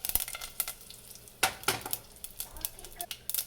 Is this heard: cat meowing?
no